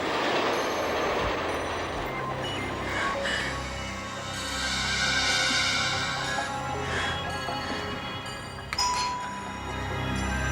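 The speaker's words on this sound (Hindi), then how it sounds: "वही ट्रेन की आवाज" Train sound effect in a horror story: a steady rumble of rolling rail cars with high metallic ringing tones and squealing wheels, a bell-like chime, and a sharp clank near the end.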